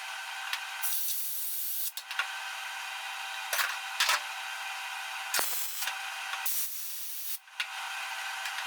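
An air hose blowing during bodywork on a Roundtail vehicle restoration, used to blow stuff off old paint: loud broadband hissing bursts, several in a row with brief gaps, close by.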